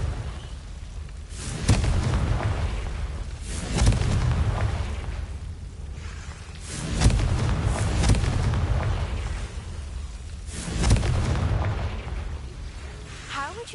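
Confringo blasting-curse explosions in Hogwarts Legacy: four loud booming blasts about three seconds apart, each with a rumbling tail.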